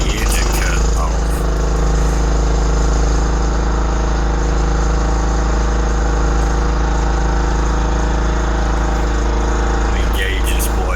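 A John Deere LT lawn tractor engine runs steadily and loudly up close, a constant mechanical drone with a low hum that holds for the whole stretch with no pauses.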